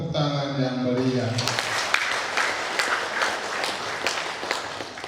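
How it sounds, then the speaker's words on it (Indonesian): An audience claps at a cooperative's annual members' meeting, a lively burst of many hands that starts after a brief tonal sound and carries on steadily, with a few louder individual claps standing out. "marilah kita memberikan aplaus dengan tepuk tangan yang meriah"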